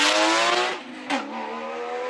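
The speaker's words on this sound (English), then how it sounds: "Just listen to how that thing sounds up the hill. Exhaust, boy, exhaust." A 2001 Porsche GT3 at a classic car hill climb in Cape Town, its exhaust screaming loud and close as it accelerates uphill, then a brief gear change before the engine note fades slightly into the distance.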